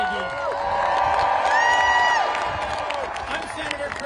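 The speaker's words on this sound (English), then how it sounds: "Let's cheer for the men and women of USAID." A protest crowd in Washington, DC cheers for USAID workers, with sustained whoops, shouts and clapping swelling loudly and then easing off, while voices call out over the din.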